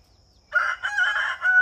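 A hen crows or squawks loudly and close by after a moment of quiet, one drawn-out call.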